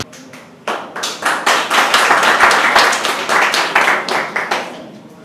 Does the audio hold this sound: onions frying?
no